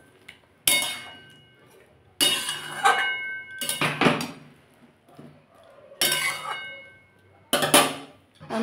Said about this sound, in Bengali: আমি এটা একটু নেড়ে দেবো।